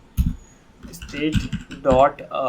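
Keystrokes of code being typed on a computer keyboard come in short irregular bursts, mixed with someone talking over them.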